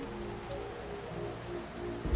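Rain falling steadily in the Wuthering Waves video game, a soft continuous patter under a low ambient game score, with a brief louder thump near the end.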